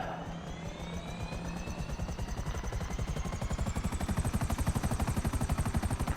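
A helicopter in GTA Online's Cayo Perico heist gives a rhythmic rotor chop that speeds up and grows louder and steadier, with a faint engine whine layered on top.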